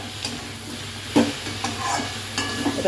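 Fried hilsa fish heads are stirred into a pumpkin curry in a pan, giving a steady close sizzle broken by several scraping stirs of a spatula, with no voices.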